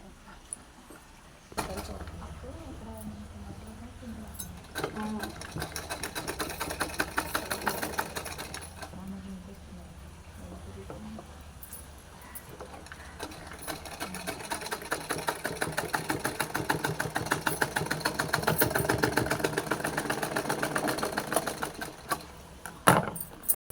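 A sewing machine stitching a hem along a fabric edge, running in bursts with a steady mechanical whir that grows louder and continuous toward the end, with brief pauses between runs.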